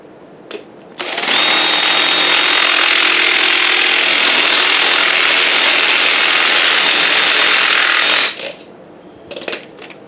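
A drill enlarges a hole on a 1979 Honda Express, a loud continuous grinding whir lasting about seven seconds before stopping abruptly, with short bursts of sound after.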